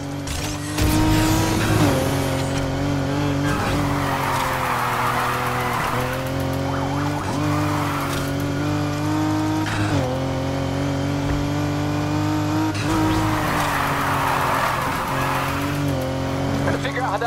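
A BMW G4 roars through a video game chase, its engine revving hard and rising and falling while tires squeal through turns, loud and sustained, with voices talking over it.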